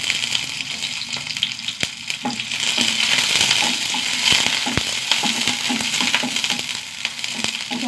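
Small shallots and curry leaves fry in oil with a steady, close sizzle, broken by scattered sharp pops and crackles throughout.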